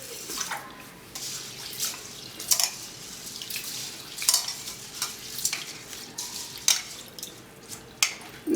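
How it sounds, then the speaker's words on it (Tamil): Water poured over rice in a pot and swished to wash it, with splashing, trickling and sharp clinks at irregular moments, close and moderately loud, with no talking. "தண்ணி ஊற்றி ஒரு டைம் கழுவிடலாம்."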